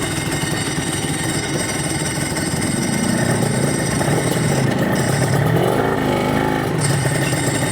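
A Honda NSR two-stroke racing motorcycle engine running close by, a loud, steady, buzzy idle with a few brief revs blipping partway through, with no talking.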